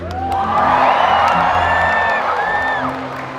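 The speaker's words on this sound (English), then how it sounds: "let's give her a great big cheer" A large audience at a SeaWorld Orlando Orca Encounter show cheers and whoops for a leaping orca, a loud, sustained wave of crowd noise with high shouts rising over it for about three seconds before easing off.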